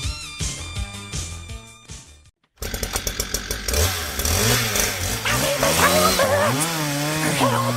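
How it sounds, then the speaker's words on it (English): A chainsaw revs loud and close: after a brief cut to silence, the engine snarls and climbs in pitch through several rising and falling surges, heard alone without talk. "I got my chainsaw"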